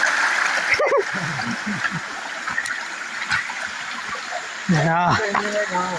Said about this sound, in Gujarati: તો પાણી પડવાનું ચાલુ થઈ ગયું અહીંથી તમે અવાજ સાંભળો ખાલી